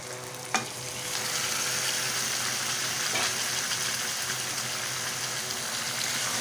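Water rinsed from a mixing bowl is poured into a pot of mutton dum biryani masala, giving a steady, fairly loud hissing sizzle that starts with a brief clank and continues unbroken.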